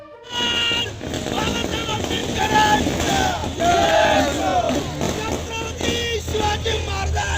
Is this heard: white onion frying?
no